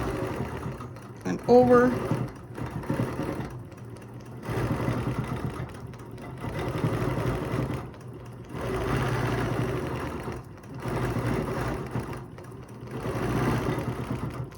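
A domestic or longarm sewing machine stitches a quilt in a geometric overall design, running in repeated steady bursts of mid-range whirring separated by short pauses, with a person talking briefly near the start.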